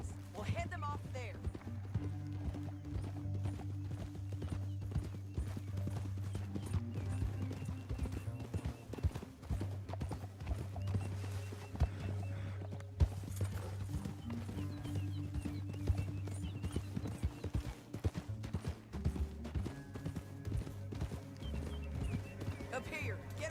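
Horse hooves clip-clop steadily in Red Dead Redemption 2, a continuous rhythmic trot running under in-game speech and background music.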